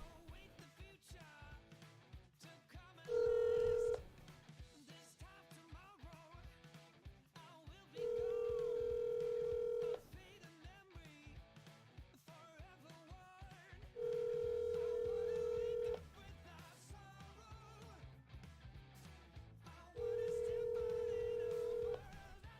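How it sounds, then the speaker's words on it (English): Outgoing phone call with repeated steady ringback tone bursts, four long beeps at regular intervals, heard over background music and low room noise. "Trying to phone a friend."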